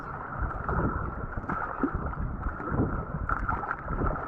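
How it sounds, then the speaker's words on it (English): A kayak runs Five Fingers Rapids on the Umgeni River through steady rushing whitewater, a dense continuous roar with splashes and gurgles close by. "So that was Five Fingers Causeway, and straight into Five Fingers Rapids"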